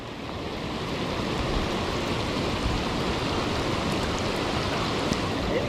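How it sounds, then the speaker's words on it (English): Rain falling at the Lake Nimrod spillway makes a dense, steady hiss blended with rushing water, swelling slightly at the start and then holding constant, with faint scattered drips and no speech. "Rain certainly is picking up."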